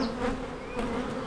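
A honeybee colony housed in a hive, formerly a swarm, gives off a close continuous droning buzz with small swells in loudness and no speech.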